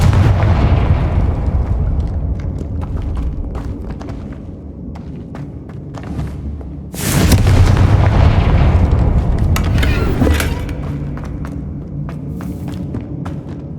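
Booming blasts from the Confringo fire spell in the Hogwarts Legacy video game, with rumbling impacts and a loud broadband burst around the middle, followed by another crackling blast over a steady low game rumble.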